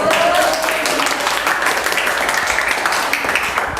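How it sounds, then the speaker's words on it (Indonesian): Classroom applause for Natasha, a student who answered a question about the labor force, filling the room with steady clapping mixed with a few voices throughout. "Tepuk tangan untuk Natasha."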